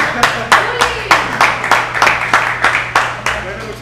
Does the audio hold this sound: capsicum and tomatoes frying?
no